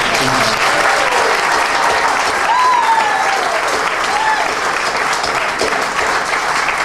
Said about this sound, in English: let's give a special round of applause for Mr. Zimbelman